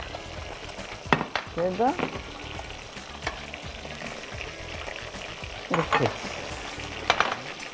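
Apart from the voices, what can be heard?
chicken frying in a pan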